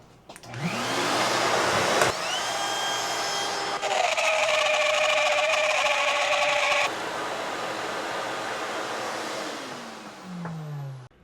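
A dust collector switched on through a Lunyee automatic vacuum switch spins up into a loud steady whooshing hum alongside a whining tool motor that starts and stops, then the collector winds down near the end.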